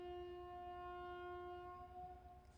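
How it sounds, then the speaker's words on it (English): A long, steady ferry horn blast near Positano with rich harmonic tones sounds continuously over a low rumble, unbroken throughout. "I don't know if you guys can hear that, but there is a horn honking."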